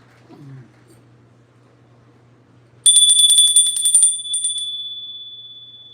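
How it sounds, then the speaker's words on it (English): A bell rung during a space-clearing ritual gives one sharp, bright strike that rings on with a long, slowly fading shimmer after a quiet stretch with a faint low hum. "I'm going to ring the bell, and then I'm going to proceed."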